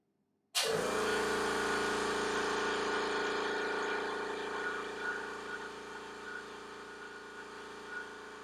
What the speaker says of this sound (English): we're going to fire up the compressor and find out if it actually lives up to the 70 dB or less statement